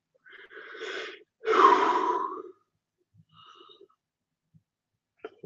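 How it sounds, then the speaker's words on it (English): A single drawn-out human yawn, close and fairly loud, with a breathy rise and fall lasting about a second, preceded by a softer breath and followed by faint small rustles and clicks in an otherwise quiet indoor setting at night. "I yawned."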